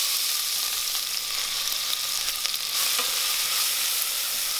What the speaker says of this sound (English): just let those onions and that base spice sort of sweat down